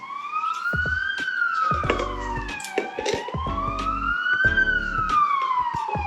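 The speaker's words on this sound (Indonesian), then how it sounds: "Yuk, lewat yuk sirine." An emergency siren wails in a loud, rising and falling sweep close by on a street in Krakow, Poland, with deep horn-like blasts and traffic noise mixed in as it passes.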